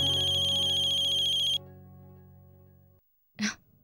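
A telephone ringtone sounds loud and alone, a steady repeating electronic melody that cuts off abruptly partway through, leaving a low hum that then falls silent before a brief faint noise at the end.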